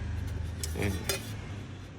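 Metal kitchenware clinks and rattles as parts of an Imarflex EP-740 electric pan are handled, a couple of light clanks over a low steady hum, close by.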